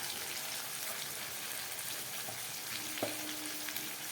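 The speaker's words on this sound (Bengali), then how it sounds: "আমি একটু ভেজে নিচ্ছি ঝিঙে আর আলুটাকে" Ridge gourd and potato frying in a pan, a steady close hiss and crackle of sizzling oil with a faint stir or clink partway through.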